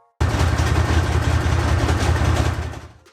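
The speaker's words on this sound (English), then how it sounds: "Compared to the rocket and the space shuttle, the tank engine startup is humble, isn't it?" A tank engine starts abruptly and runs with a loud, deep, rumbling idle that holds steady for a few seconds before dying away.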